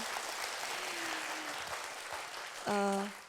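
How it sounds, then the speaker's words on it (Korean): An audience at a humanities talk concert applauds a traditional Korean pungmul troupe after their pangut performance. The clapping is steady and sustained, and a brief, tonal voice-like cheer or shout rises near the end. "이분들께 다시 한번 큰 박수 주실래요?"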